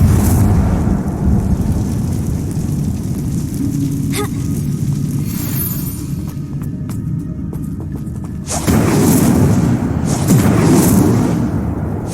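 An Incendio fire spell cast inside a cave in Hogwarts Legacy gives a steady roaring, crackling rush that swells into a louder burst partway through, with no talking.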